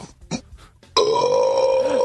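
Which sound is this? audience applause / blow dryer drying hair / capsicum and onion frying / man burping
man burping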